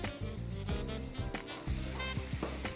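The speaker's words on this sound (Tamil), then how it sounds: "ஸோ இப்போ இதோடு சேர்ந்து தக்காளியும் நல்லா வதங்கட்டும்." Tomatoes sautéing with cauliflower and peas in a pan, a dense close sizzle with a few scraping stirs, over steady background music, no voices.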